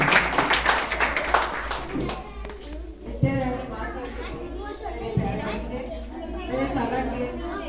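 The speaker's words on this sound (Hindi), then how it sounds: "हमारे मुख्य अतिथियों के लिए जोरदार तालियों से स्वागत करेंगे" Audience clapping for the chief guests at a school Republic Day function, with a burst of applause in the opening seconds that fades into crowd chatter and children's voices, plus a few sharp taps later.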